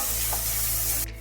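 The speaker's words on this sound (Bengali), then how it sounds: "এবার এগুলোকে ভালোভাবে মিশিয়ে নিয়ে একটু নেড়ে নিচ্ছি তেলের সাথে" Spices with a little asafoetida stirred in hot oil in a pan, a brief steady close sizzle and hiss that drops off near the end, with no talk.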